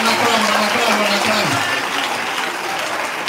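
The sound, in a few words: applause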